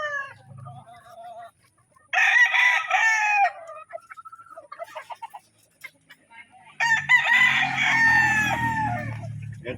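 Sweater-breed gamefowl roosters crow loudly in two separate bouts, with soft, scattered clucking between them in an otherwise quiet setting.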